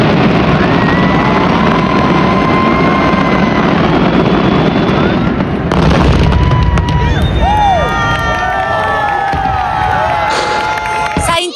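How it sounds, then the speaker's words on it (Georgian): Fireworks at the Fallas festival in Valencia, a dense roaring barrage of explosions and whistling rockets, loud and continuous, with crowd noise and cheering mixed in. "როდესაც ფერადი ფეიერვერკები ქრება და მხოლოდ ხმა ისმის"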